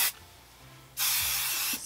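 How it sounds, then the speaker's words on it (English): Hairspray hisses from an aerosol can onto curled hair in two short bursts, a brief spray, a pause, then a longer close, steady spray. "Spray each side."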